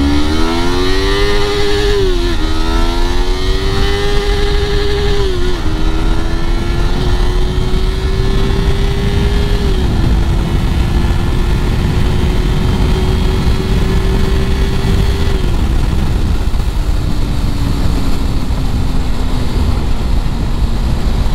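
A Yamaha R3 fitted with a Ninja 300 chain sprocket revving hard in first gear, its loud engine whine climbing in pitch with brief dips at gear-limit cuts, close and dominant with heavy wind rumble.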